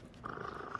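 An AI robot cat purring in a steady low rumble that starts partway through, close and alone, with no voices.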